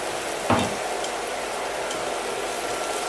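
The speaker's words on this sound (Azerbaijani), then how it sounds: "Soğan biraz kızarandan sonra sarımsağı da əlavə edirəm üstünə." Onion and garlic frying in a pan, a steady close sizzle throughout with a brief louder burst of crackling near the start as something is stirred or added.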